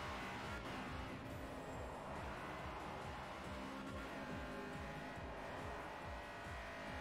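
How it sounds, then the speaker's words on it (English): Honda Civic engine in Forza Motorsport 4 roaring steadily through a tunnel, a loud continuous racing drone with pulsing low rumble and tire noise, no voices. "I think the car got quieter through the tunnel."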